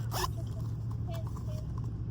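A small see-through zipper notions bag being zipped, one quick rasping zip near the start followed by faint handling rustles, close and quiet.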